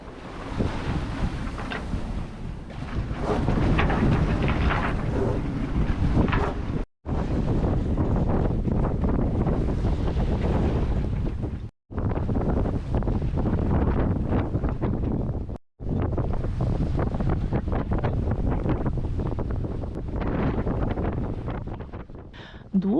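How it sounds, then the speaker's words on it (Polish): Heavy wind roars and buffets the microphone almost without pause while sailing in strong wind, with rushing water and waves beneath and a few abrupt silent cuts. "niestety wiało zdecydowanie za mocno"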